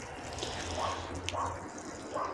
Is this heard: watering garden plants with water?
yes